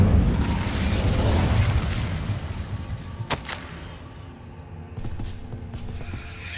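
Incendio fire spell cast in Hogwarts Legacy, a loud rushing roar of flame with a sharp crackling burst in the middle, fading into lower rumbling game ambience.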